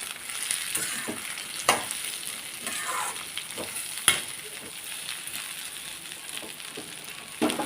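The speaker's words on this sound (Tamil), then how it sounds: "நம்ம எடுத்து வச்ச வெண்டைக்காயை சேர்த்துருவோம். நல்லா கிண்டி விட்டுருவோம். நல்லா கொஞ்சம் வதங்கட்டும்." Okra sizzles steadily in a hot pan while a utensil stirs it, with a few sharp clinks against the metal, as it is stir-fried for South Indian vendakkai poriyal.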